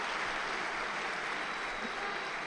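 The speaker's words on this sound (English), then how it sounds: "A big round of applause" Steady broadband crowd applause fills a judo tournament arena at a Tbilisi Grand Prix, a dense continuous wash of clapping at moderate distance with no voices on top.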